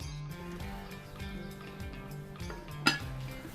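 A metal lid clinks down onto a Dutch oven holding cola-braised short ribs, one sharp clink near the end of a quiet stretch of low kitchen clatter.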